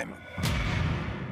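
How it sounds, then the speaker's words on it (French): A sharp, loud gunshot detonation inside an aircraft cockpit, a sudden bang followed by a heavy, rumbling low roar. "il y a deux détonations très fortes"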